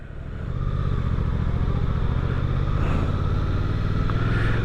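A 2024 Suzuki GSX-8R motorcycle engine runs at a steady, loud, close idle with a low, throbbing rumble and no talk.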